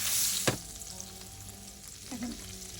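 Chopped shrimp frying in a pan, a steady close sizzle with a sharp crackling burst near the start and a brief scrape of stirring later, no talking.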